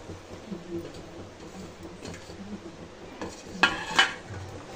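Mashed potato being mixed with cooked spices in a pan, soft scraping and light clinks of a spoon on the metal, ending in two sharper knocks, with quiet speech-like sounds in the background.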